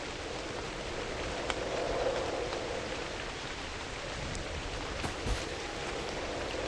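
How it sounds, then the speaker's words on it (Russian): Steady rain hiss in the video game Novus Inceptio fills the whole stretch, a dense even patter with a few louder drops, no voices. "Да, блин, долбанный дождь."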